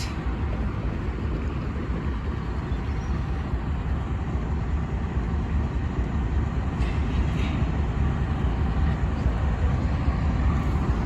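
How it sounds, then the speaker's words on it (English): A locomotive of a type also run by Amtrak rumbles past at a grade crossing, giving a steady, loud low-pitched roar of engine and rolling wagons that holds for the whole stretch without letup. "To think I'm looking at the same type of locomotive I want to see on Amtrak."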